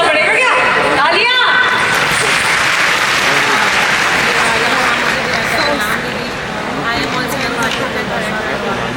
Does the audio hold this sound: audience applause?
yes